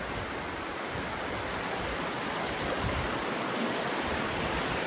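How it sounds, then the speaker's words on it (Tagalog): A strong river current rushes in a steady, loud broadband wash on a mountain river, continuous and close throughout with no talk over it. "Lakas ng agos."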